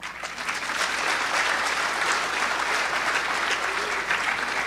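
An audience at a devotional religious discourse claps in a sustained, dense round of applause that stays loud and even for several seconds.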